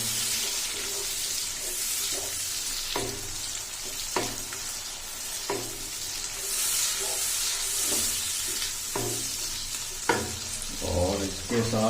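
Tomatoes cooking in a pan for daal mash, a continuous close sizzle broken by periodic spoon stirs and scrapes, with no talking.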